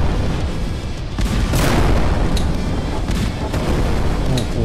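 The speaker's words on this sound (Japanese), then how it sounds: "爆発するんだ。" Explosion in the horror video game Jawbreaker: a loud, dense boom with rumbling debris and crackling bursts filling the whole moment, a few sharper pops scattered through the tail.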